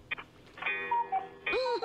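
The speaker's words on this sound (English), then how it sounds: "That's Fred's sound effects machine is on the phone." A sound effects machine plays over a telephone line during a radio show, giving short electronic beeps and warbling tones that are thin, phone-filtered and fairly quiet.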